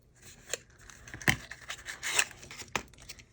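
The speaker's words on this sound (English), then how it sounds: "I am going to cut a little bit of this out" Scissors snip through craft material for a miniature faux book box shop scene, giving a few crisp, close cuts with soft rustling between them.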